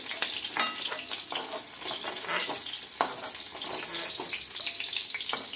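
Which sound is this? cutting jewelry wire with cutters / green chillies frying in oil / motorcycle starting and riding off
green chillies frying in oil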